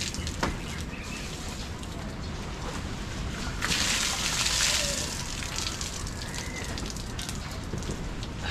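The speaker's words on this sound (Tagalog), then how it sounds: "Maulan eh. Laging na ulan ngayon." Steady rain falls outdoors on a rural bamboo hut site, a dense continuous patter on surfaces with a brief heavier surge midway.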